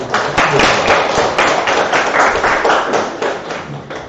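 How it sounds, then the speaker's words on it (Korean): Hands clap steadily and loudly in a lecture room during a classical-text reading class, a dense round of applause that holds for several seconds with little talk. "박수 한번 쳐주세요"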